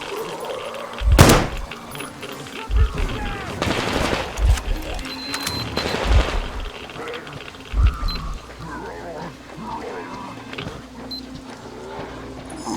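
Gunfire in the video game Metro Exodus, several loud, close bursts and single shots spread across the clip over a busy game soundscape.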